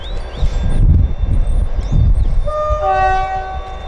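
A GWR train rumbles past with heavy low clatter between Plymouth and Penzance, and partway through its horn sounds, a sustained multi-tone blare over the rolling noise.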